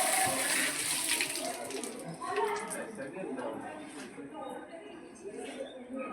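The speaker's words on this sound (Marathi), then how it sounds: "मंदिरात प्रवेश केल्यावर बाजूला नळ आहे." Water runs from a tap beside the temple entrance at Shri Harihareshwar, a rushing splash that is loud at first and then steadier, with voices talking over it.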